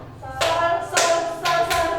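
During a solfège music lesson, a few sharp hand claps land one after another, spaced unevenly, over sustained tonal notes that ring underneath.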